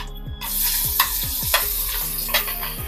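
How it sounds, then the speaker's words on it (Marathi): Onion and tomato sautéing in oil on low to medium gas, a steady close sizzle with repeated scraping stirs of a spoon in the pan. "आता आपल्याला कांदा आणि टोमॅटो लो ते मिडियम गॅसवरती तीन ते चार मिनिटासाठी चांगला परतून घ्यायचा आहे"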